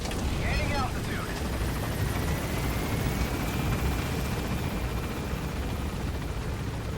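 Helicopter in Metal Gear Solid V: The Phantom Pain climbing after takeoff, a steady loud rotor and engine roar holding throughout, with brief radio-style voice chatter early on.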